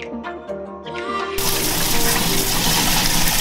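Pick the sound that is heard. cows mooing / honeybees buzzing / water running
water running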